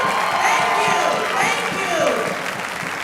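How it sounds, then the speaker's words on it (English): An audience at a city youth orchestra concert bursts into loud, steady applause and cheering, with shouts and whoops rising over dense clapping that fills the room. "audience, let's give them the loudest round of applause that we can possibly give them"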